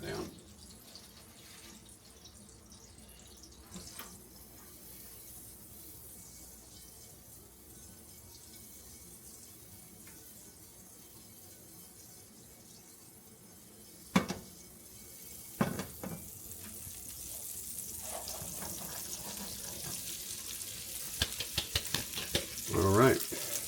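Corn being scrubbed under a running kitchen tap, a steady low wash of water with occasional clunks of the cob and dishes, growing louder toward the end.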